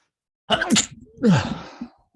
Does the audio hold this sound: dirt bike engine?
no